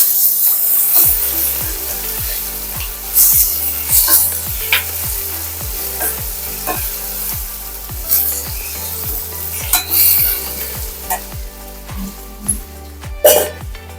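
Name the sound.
sautéing and stirring in a pan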